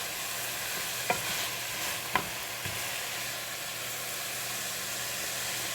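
Still-frozen meat with onions browning in a pot as the start of homemade vegetable soup, a quiet steady sizzle and hiss with a few soft stirring scrapes, no talking.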